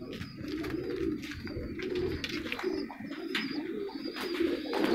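A golden pigeon coos close by in repeated low, throaty phrases, with a few faint chirps from other birds in the background.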